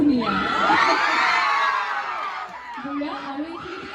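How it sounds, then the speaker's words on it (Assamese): Students shout and cheer together at a college freshers' dance event, a loud sustained crowd roar that dips briefly and then surges again in whoops. "তোমালোকৰ কিন্তু চিঞৰটো খুব ধুনীয়া"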